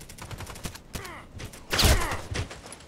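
Gunfire crackles in the online shooter Contract Wars, with scattered shots and a louder burst of firing amid background game noise.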